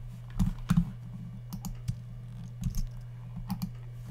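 Close, uneven bursts of clicky keystrokes on a computer keyboard, with short pauses between runs over a steady low hum, no talking.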